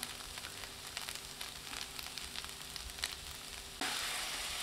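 Honey cauliflower sizzles steadily in a hot pan right after the honey goes in, a dense crackling fry with scattered pops. Near the end the hiss swells louder. There is no talking.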